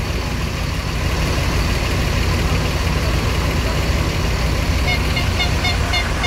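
Steady low rumble of idling engines in heavy city traffic, continuous and close, with faint voices mixed into the background.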